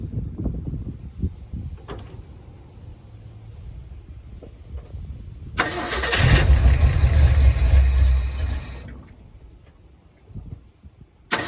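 A 1970 Ford F100 truck engine cranks for a couple of seconds midway with a loud churning burst. Before it and after it come quieter clunks and rattles.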